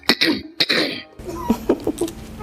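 A voice imitates a cough: two short, harsh cough bursts, followed by a few quieter throaty sounds.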